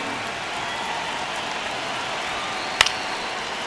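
A baseball stadium crowd in the video game MLB The Show 26, Cardinals versus Cubs in the ninth inning of a one-run game, holds a steady wash of murmuring noise with one sharp crack near the end.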